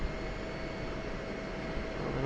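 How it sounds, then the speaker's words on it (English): Steady engine whine and rumble of a fighter jet taxiing toward the runway in the DCS flight simulator, a continuous even drone with no breaks. "Rolling on down to the runway."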